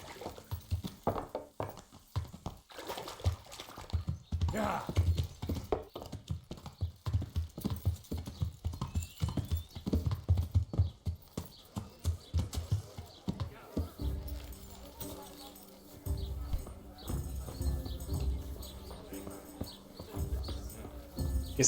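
A horse's hooves clip-clop in a steady rhythm while riding in Kingdom Come: Deliverance, the medieval game, with someone talking over the hoofbeats and quieter ambience later.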